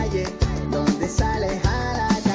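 Upbeat pop track by a young Canarian singer played as a short quiz excerpt, dense instrumental music with punchy beats and bright harmonic layers at steady, loud level.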